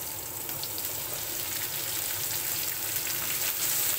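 Chopped tomatoes hit a hot pan of sautéed aromatics and fry with a steady, close, loud sizzle that holds throughout without pause; no one speaks.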